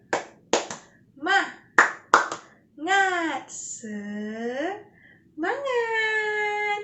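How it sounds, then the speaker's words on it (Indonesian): Children perform a rhythmic spirit clap (tepuk semangat) at the close of a Christian children's lesson: a run of sharp, close hand claps in quick patterned bursts, followed by children's voices chanting and calling out together. "Yuk, kita akhiri dengan tepuk semangat dulu yuk"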